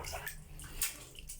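Water rushing and swirling down from a toilet bowl that was just unclogged, a short, near wash of draining water with a brief surge in the middle and faint voice sounds underneath.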